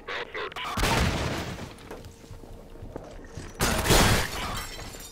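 Glass shattering in the video game Half-Life 2 Episode 2, two loud crashing bursts of breaking glass with rattling debris in between, close and prominent over background game noise.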